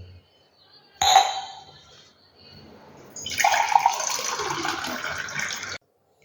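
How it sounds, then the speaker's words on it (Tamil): Hot water is poured over a bottle for a balloon science experiment, a brief splash and clink followed by a few seconds of steady pouring and trickling water, close by. "இது மேலே சுடு தண்ணியை ஊற்றுவோம்"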